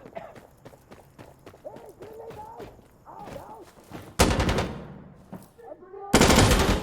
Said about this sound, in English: Okay, they're finished firing.